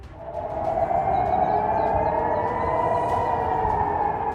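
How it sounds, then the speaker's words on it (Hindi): Emergency sirens wail over a city in Dubai after a drone attack, a loud sustained tone with a faint rising-falling sweep, blended with low rumbling background noise. "पूरे इलाके में इमरजेंसी अलार्म और सायरन की आवाज गूंजनी शुरू हो गई"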